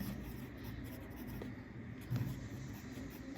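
Pen or marker writing numbers during a math lesson on decimals, soft scratchy strokes close by with a slightly louder rub near the end, no voices.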